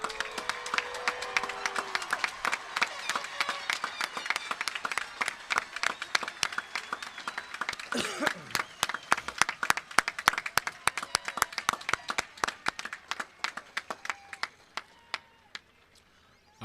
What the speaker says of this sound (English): Everyone, please stand at this time and give them a round of applause.